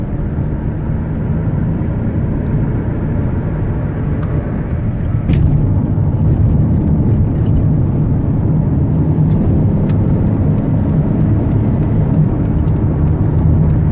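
A 2001 Chrysler Town and Country wheelchair van with high mileage cruises at highway speed, giving a constant loud roar of engine, tires and wind that swells slightly partway through, with no talking.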